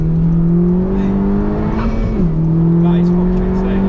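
A Honda Civic Type R FK2 accelerating hard through the gears, its engine note droning loud and close with a pitch rise and a brief dip at a shift before climbing again.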